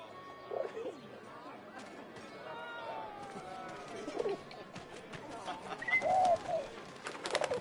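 A pigeon in 11-11 Memories Retold coos softly a few times against faint ambient chatter and rustling, with voices talking throughout and the cooing growing clearer and louder near the end.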